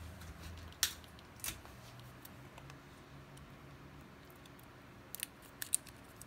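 Scissors snip a piece of tape to hold a screw during a Lenovo Yoga 700 laptop repair, a few sharp, quiet clicks spaced apart over a faint steady background hush.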